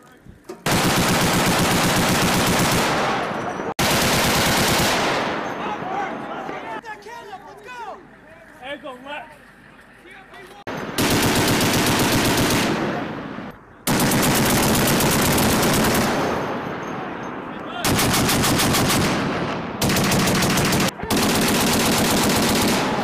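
Marine Corps officers fire machine guns in long, loud, sustained bursts on a range, with short pauses between bursts and a quieter stretch in the middle.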